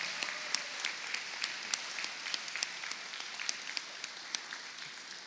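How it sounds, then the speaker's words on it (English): Steady applause fills a room at a 2018 Canadian citizenship ceremony, a moderate wash of many hands clapping with a few sharper claps standing out. "How about everybody giving everybody a great round of applause?"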